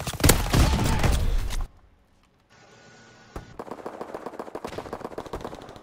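Gunfire from the video game Call of Duty: WWII: a dense, loud burst of shots, a brief near-silent lull with a faint hum, then a sharp crack and a long run of rapid automatic fire.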